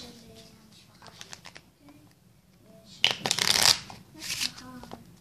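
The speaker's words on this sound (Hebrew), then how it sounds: "עכשיו מה שאני רוצה לעשות זה לערבב את זה עוד טיפה" A deck of playing cards being shuffled during a card magic trick, with a loud riffling burst in the middle and a second shorter flurry after, close by with talk before it.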